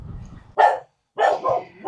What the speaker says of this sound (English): Alfie decides to start barking his head off